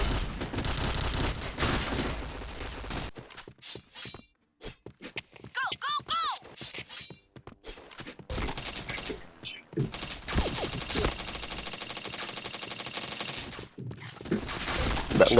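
Rapid bursts of video game shooter gunfire rattle in dense volleys, dropping out for a stretch of sparser single shots and effects before heavy firing resumes, with a player talking over parts of it.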